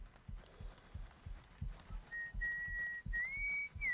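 A thin, wavering whistle rises over rhythmic clip-clop hoofbeats during the second half, fairly faint and steady against the steady trotting.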